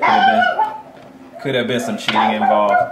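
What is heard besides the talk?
dog barking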